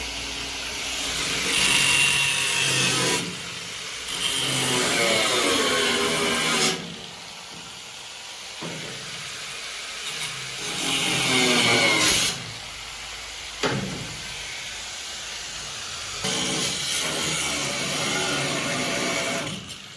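Cutting metal on the windshield frame of a Ford Transit MK1 produces loud, harsh power-tool bursts of several seconds each, separated by short pauses, close by and without speech.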